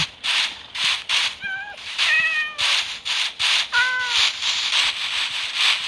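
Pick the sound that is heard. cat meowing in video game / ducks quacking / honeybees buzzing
cat meowing in video game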